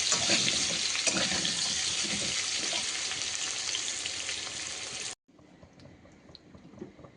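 Taro sizzles steadily in a hot pan for about five seconds, a loud dense frying hiss, then drops abruptly to a much quieter, fainter sizzle for the remaining seconds, with no talking.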